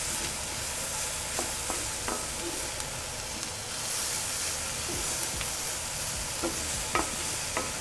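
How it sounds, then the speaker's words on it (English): Turkey bacon is stirred into breakfast potatoes frying in a pan, a steady close sizzle broken by scattered scrapes and taps of a spatula. "we're going to add our turkey bacon in there. Mix it all together"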